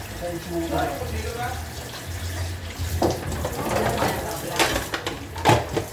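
Warm water running from a tap with splashing as dishes are washed, while people chat nearby.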